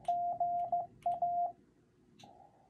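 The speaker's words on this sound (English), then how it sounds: "everything in Morse code is abbreviated, so good afternoon is what I send" A Morse code CW signal sending a greeting: a single steady beeping tone keyed in a rhythmic string of short and long pulses, with a brief pause and then one longer held tone at the end, clear and alone.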